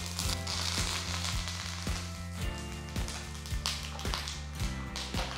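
Curry leaves and mustard seeds crackle and sizzle in hot oil for a South Indian rasam tempering, a steady close hiss with dry chili added, punctuated by repeated sharp pops and taps through the pan.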